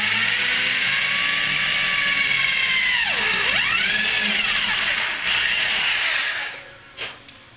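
A power drill spins a drill bit that is slightly undersized, working on an RC International CXT model truck, giving a loud, sustained whine that dips briefly in pitch under load before rising again and fading out.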